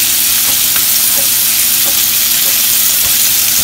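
Lamb ribs pan-frying in a home kitchen give off a loud, steady sizzle and crackle that fills the whole stretch, with faint scattered pops and no talking.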